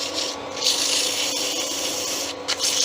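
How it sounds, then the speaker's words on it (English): Continuous hissy rubbing of sandpaper against a wooden Christmas tree spinning on a lathe, steady and fairly close over a background motor hum. "Just give it a sand."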